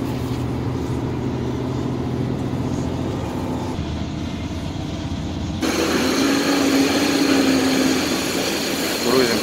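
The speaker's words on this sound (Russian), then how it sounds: "Это у нас камень дробит." A stone crusher crushing rock at a quarry, a loud continuous mechanical rumble and grinding drone heard up close, shifting in tone partway through, with people talking over it.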